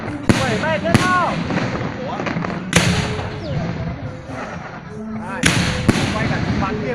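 Fireworks bursting in a series of sharp, loud bangs spread across several seconds, with whistling launches and crackles in between, while people talk and cheer over them.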